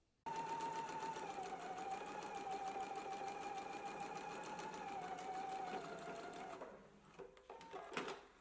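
A domestic sewing machine runs steadily, stitching a side seam at a 5/8 inch allowance, a continuous close whir and rapid needle patter that slows and stops near the end with a few clicks.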